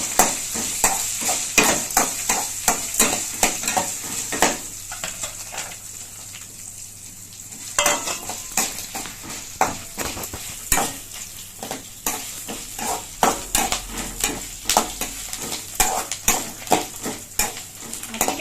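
Ginger and garlic frying in a pan for fig (athikai) thuvayal, with a steady sizzle under repeated sharp scrapes and clatters of a spoon stirring against the pan, close and continuous, with a brief quieter lull midway.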